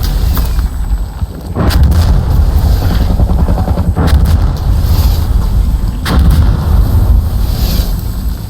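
Several heavy, loud booms from bomb explosions in a first-person shooter game come at intervals of a few seconds, over continuous dense gunfire and rumbling.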